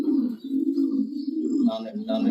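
A semi-adult pair of racing pigeons coos in a low, steady, continuous murmur close by, with brief brighter calls near the end.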